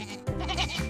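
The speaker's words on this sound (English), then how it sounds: "G for goat" A single short goat bleat, close and fairly clear, lasting under a second with a wavering tone.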